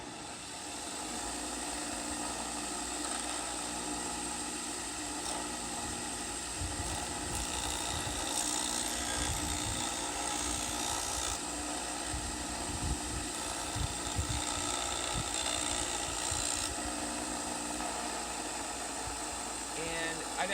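A bench grinder runs while a wood turning chisel is sharpened, holding a steady loud motor hum and whine with bursts of grinding contact throughout.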